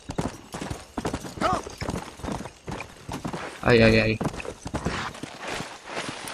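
Horse hooves clip-clop steadily in the video game Red Dead Redemption, a rhythmic trot close by, heard under someone speaking Spanish, with a brief louder tonal burst partway through.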